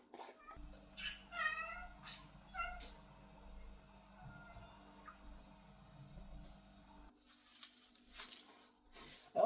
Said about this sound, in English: there's a cat in my front yard